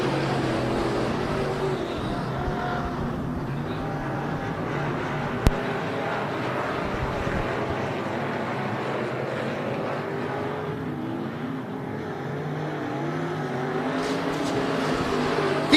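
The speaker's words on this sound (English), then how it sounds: "Green flag's in the air, we're underway with heat race number 2." Dirt-track race cars on Bakersfield Speedway run a heat race, a dense continuous engine roar from the pack with no clear individual pass-bys, loud and steady throughout.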